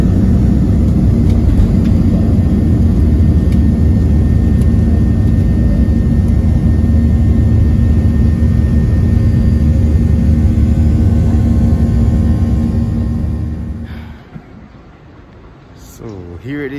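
Steady, loud jet engine turbine roar from an airliner in flight, a broad continuous drone with tonal hum that holds for about fourteen seconds before dropping away into quieter cabin noise.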